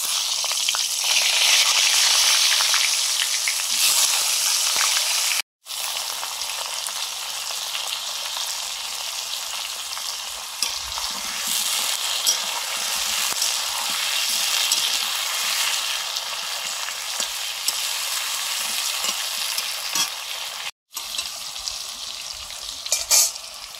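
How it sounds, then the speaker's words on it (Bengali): Chunks of ash gourd frying in mustard oil with a little turmeric, a steady loud sizzle and crackle running throughout, with two brief drops to near silence. "সর্ষের তেল দিলাম অল্প একটু হলুদ দিয়ে চাল কুমড়ো গুলো আগে একটু ভেজে নেব"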